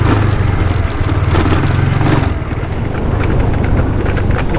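A motorcycle engine running steadily and loudly at close range, with a rough, continuous idle-like rumble that dips briefly and then carries on, no talking.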